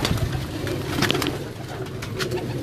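A pair of Core Commander pigeons coo on a rooftop, low throaty rolling calls repeating close by, with a few brief higher clicks and rustles.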